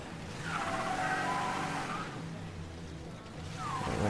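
A car in Mafia III brakes with a drawn-out tire squeal and skid over a low engine, fading and then building again at the end.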